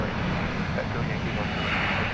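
Steady, loud roar of a jet airliner's engines with serrated cowlings at DFW Airport, a constant broadband rumble with no breaks throughout.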